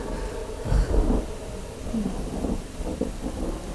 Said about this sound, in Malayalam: ഇടിയും മിന്നലൊക്കെ ഭയമാണോ ഏ ആ പുറത്ത് നല്ല മഴ